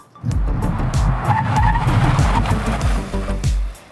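Honda ZR-V hybrid braking hard from 100 km/h to a full stop, tires squealing loudly and steadily for several seconds over road rumble, with no talk.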